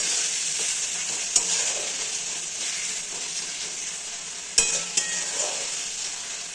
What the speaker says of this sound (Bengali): তাই ভালো করে মশলাটাকে এখানে কষিয়ে নিতে হবে।